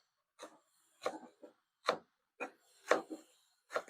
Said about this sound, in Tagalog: Hihiwain natin siyang pinong-pino para igigisa natin siya sa maraming kamatis.